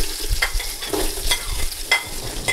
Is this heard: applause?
no